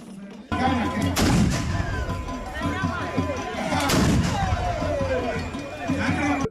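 Guns fire in a display at a Kwame Nkrumah festival celebration in Nkroful, with two or three sharp, booming reports over a busy crowd murmuring.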